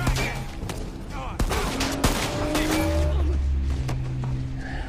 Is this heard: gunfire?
yes